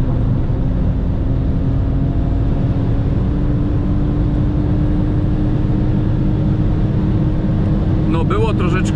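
A 2001 BMW 330i E46 pulling hard on a motorway from 100 to 200 km/h, with a steady loud engine drone and heavy road and wind roar inside the cabin and a voice briefly at the end.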